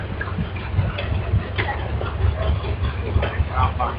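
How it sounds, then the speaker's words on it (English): A 1937 Farmall F20 tractor engine runs at a vintage power show, giving a steady, loud, low chugging rumble with regular pulsing beats throughout, over general outdoor show noise. "1937 Farmall F20, owned by Don Northup of West Burlington, Io"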